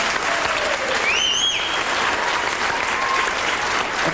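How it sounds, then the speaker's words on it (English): An audience applauds steadily throughout a talk by Michael Moore, a dense, even wash of clapping with a faint whistle rising briefly above it. "Please notice that Gary is the only man applauding this."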